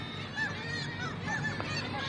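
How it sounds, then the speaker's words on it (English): A seagull, a seabird, calling near water with a series of honking, squealing cries over a constant background wash, with no talking. "seagull is a seabird"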